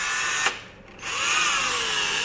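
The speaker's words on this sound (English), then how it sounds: "when I spin the drill, the barrel turns." A power drill whirs steadily, spinning a gel blaster barrel for a custom Hi-Capa pistol build, with a brief dip in the motor sound before it resumes at a set speed.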